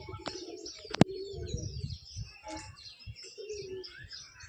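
A pigeon coos softly at close range, with a few brief chirps and one sharp click early on, all fairly quiet, with no talking.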